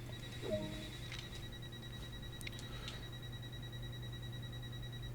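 Door-closing warning beeps on a Talent 2 Leipzig commuter train in Train Sim World sound as a faint, thin electronic tone. Light clicks and a low cab hum sit underneath.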